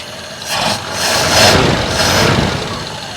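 A 1947 Ford engine idles with a Holley 94 carburetor. It gives a steady, close, mid-pitched running sound with slight swells in level and no talk.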